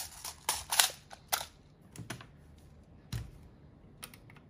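An E&C 603 S4 QD 2.0 airsoft gun fires during a bullet-speed chronograph test: a handful of sharp, dry single clicks spaced irregularly over a quiet background.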